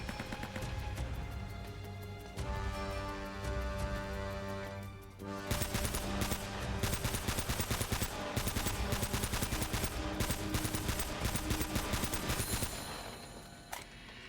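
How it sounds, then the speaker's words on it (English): Rapid bursts of gunfire in the video game Uncharted crackle over a loud, steady music and effects bed, with dense automatic fire filling most of the clip. "I think I heard gunfire"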